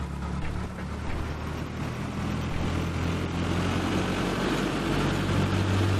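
A Cessna 172 engine in FSX runs up to 1500 RPM, a steady droning hum that rises gradually in pitch and loudness and keeps going without a break.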